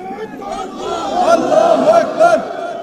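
A crowd chanting a religious slogan together. Loud massed voices rise into sustained, wavering shouts in short repeated bursts, close by and filling the space.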